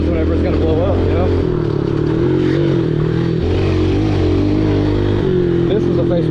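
A Suzuki RM85 or a 110 dirt bike with a worn, fragile engine and no back brake revs while being ridden, giving a loud, continuous, wavering engine note up close, with a voice talking over it.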